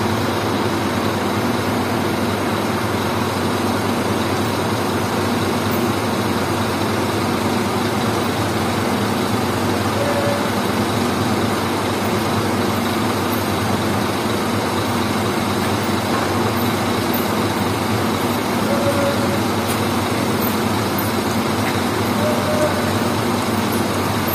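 A double-decker bus sits on inspection rollers during a roadworthiness test, its engine droning steadily while the wheels are run forward, then in reverse, then braked. The broad, constant mechanical roar holds for the whole stretch with no clear pauses.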